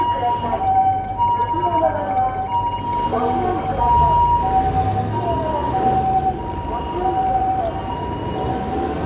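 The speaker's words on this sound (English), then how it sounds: "There you go, you don't get that every day, the ambulance." An ambulance siren wails steadily on a busy Tokyo street at night, loud and close at first with a repeating two-tone pattern, over traffic rumble and go-kart engine noise, with people talking faintly.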